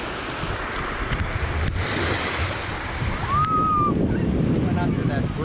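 Surf and wind noise on a beach in Denmark, a steady broad wash of waves with gusting buffeting on the microphone throughout, and a faint high whistle-like tone near the end.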